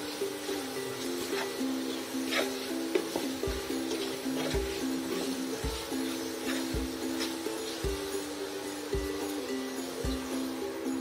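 Crispy fried potatoes being stirred with masala in a pan, a steady sizzle under repeated rhythmic scrapes and knocks of the spoon, close and moderately loud.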